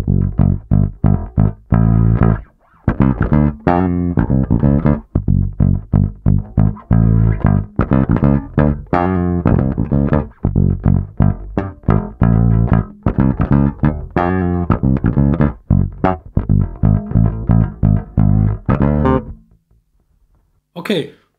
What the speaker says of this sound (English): I'm going to turn the filter on the neck pickup even more down.